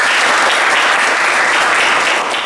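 Loud, dense applause from many people in a classroom, clapping steadily and continuously throughout.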